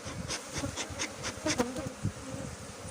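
Thai cavity-nesting honey bees buzz around a flowerpot hive, a steady close hum with individual insects passing near the microphone in repeated swells, no talking.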